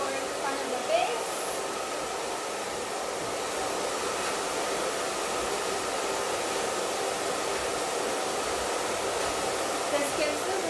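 A hair dryer blows steadily while drying hair roots with a paddle brush, a constant close airy whoosh that barely changes throughout.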